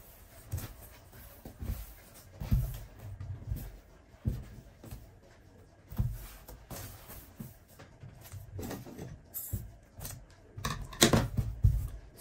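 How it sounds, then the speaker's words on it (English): Scissors cutting out a back facing piece of fabric for a cowl neck dress, with close, irregular snips and crunchy blade closes coming in short bursts, interspersed with soft rustling of the cloth and no talking. "Cut out the facing for the back"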